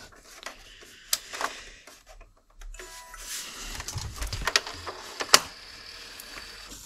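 An HP DeskJet Plus Ink Advantage 6075 inkjet printer runs its mechanism, with the carriage shifting and latching over the ink cartridges. Close, uneven whirring and ticking with sharp clicks and clacks, with no talk.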